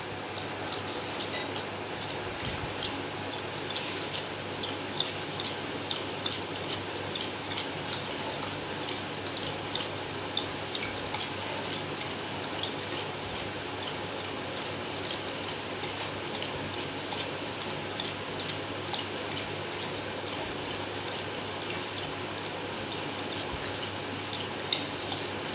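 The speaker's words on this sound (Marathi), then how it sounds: "मी तिला दिल्यानंतर ती पाणी प्यायला लागली" A golden retriever laps water, making a long run of small rhythmic wet ticks and drips, faint and close with a quiet background and no talking.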